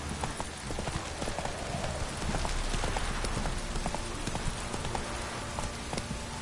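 Video game horse hooves from The Witcher 3 clip-clop in a quick galloping rhythm, steady and fairly faint, with a brief whinny-like texture in the background.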